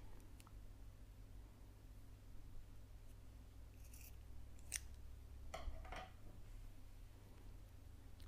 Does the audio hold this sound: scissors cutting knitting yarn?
yes